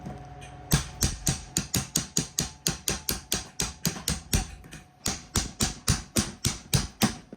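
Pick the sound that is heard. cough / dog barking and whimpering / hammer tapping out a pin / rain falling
hammer tapping out a pin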